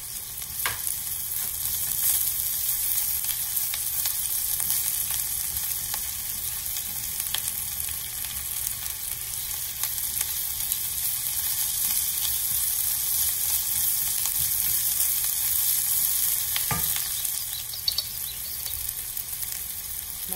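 Ginger garlic paste and green chillies fry in a pan with softened vegetables, giving a steady, close sizzle that continues evenly for about twenty seconds without any speech.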